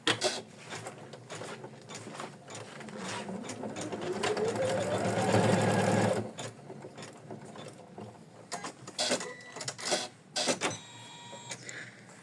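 An in-the-hoop kitty being stitched on a sewing machine, a steady mechanical whir that climbs in pitch and loudness for several seconds before breaking into short, intermittent bursts of needle clatter.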